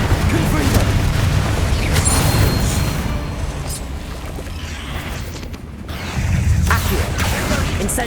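Incendio and Confringo spells cast in the Hogwarts Legacy video game, a continuous loud rumbling roar of fire and blasts that dips midway and then surges back.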